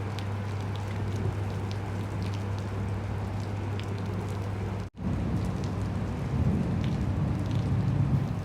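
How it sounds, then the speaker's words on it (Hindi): Steady rain falls in Qatar during the rainy season, a dense continuous patter on surfaces with a constant low hum underneath, briefly cutting out midway before resuming slightly heavier, with no talk. "यहाँ पर जी बारिश का आजकल सीज़न चला हुआ है कतर में, तो ये बारिशें कुछ दिन पहले हुई थी"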